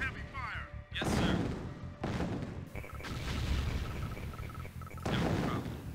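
Dense gunfire and heavy artillery booms rumble through a Command & Conquer: Tiberian Sun battle, with repeated loud blasts and rattling shots layered under brief unit voice responses.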